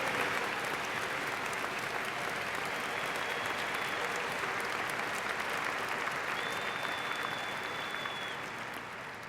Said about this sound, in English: So a round of applause for our graduates,